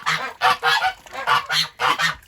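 Ducks quacking loudly during rain, a rapid series of nasal, honking calls repeating in close, uneven bursts throughout, with no speech over them.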